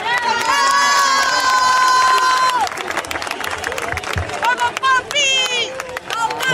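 A concert crowd applauds and cheers loudly for a singer coming to the stage, with shouts and clapping under sustained voices and a speaker talking.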